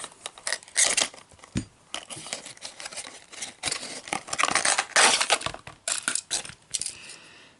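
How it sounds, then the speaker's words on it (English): Knife slicing open the plastic blister pack of a Honda series die-cast toy car, with close, crinkly crackling and tearing in irregular loud bursts and no talking. "I'm going to use the knife."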